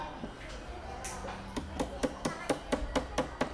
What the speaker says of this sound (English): I'm then going to hammer in the T-nut from the backside.